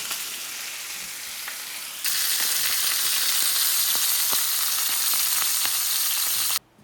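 Rack of lamb sears on high heat in a hot pan, giving a steady, loud close sizzle that jumps up in intensity partway through and then cuts off abruptly.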